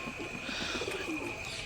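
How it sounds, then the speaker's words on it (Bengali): A tile pigeon coos softly at moderate distance, a short low murmuring call over a steady background hiss, with no voices. "খুবই সুন্দর পায়রা"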